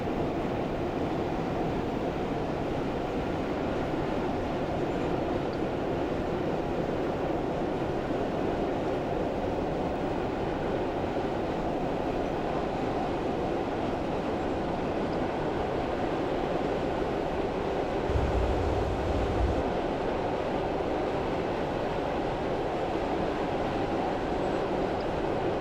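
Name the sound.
Class 117 diesel train running in the video game Train Simulator 2016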